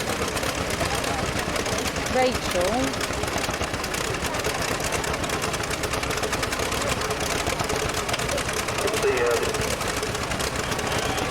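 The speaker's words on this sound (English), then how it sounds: "this is an Australian design and manufactured tractor. And they went to diesel, they used the Burns and they used the Meadows diesel" An Australian-designed and built tractor fitted with a Meadows diesel engine runs steadily at a rural heritage rally, with a continuous mechanical rumble and knock under nearby talk.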